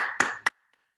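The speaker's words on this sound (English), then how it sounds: "Can you clap, little man?" A little boy claps his hands twice, two sharp, close claps a fraction of a second apart, followed by quiet.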